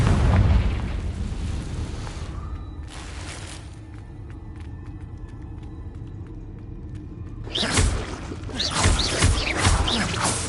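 Confringo blasting spell explosions in the Hogwarts Legacy video game: a loud booming burst opens, then a quieter rumbling stretch, and a second heavy crackling blast erupts near the end.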